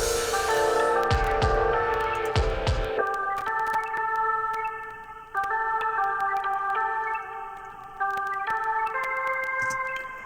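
Modern synth lead run through a Waves Ovox vocoder, a bright, buzzy, vocal-like tone playing sustained melodic notes with a few sharp percussive hits at the start, loud and alone.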